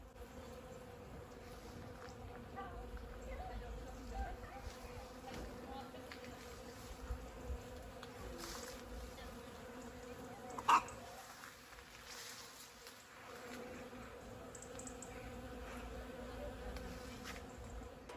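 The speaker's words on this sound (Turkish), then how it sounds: "Böyle birazcık sessiz olacağım ve arının seslerini duymanızı istiyorum." Bees buzz steadily around almond blossoms, a continuous low hum with a brief louder pass close by, over faint outdoor village background.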